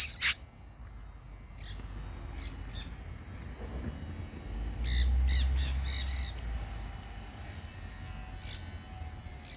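Monk parakeets, also called Quaker parrots, give harsh repeated squawks and chattering calls in short clusters, moderately close, over a steady low background rumble.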